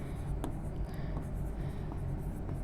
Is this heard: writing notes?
yes